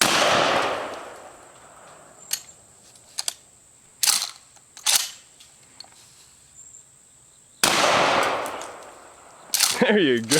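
A Remington 870 shotgun fired from the hip at a log outdoors, two or three sharp loud blasts amid clicks and rustles, with bursts of close wind or handling noise and a voice speaking briefly near the end.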